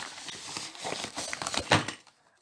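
A paper envelope is handled and torn open, giving close crinkling and rustling with a sharp tearing burst near the end before quiet.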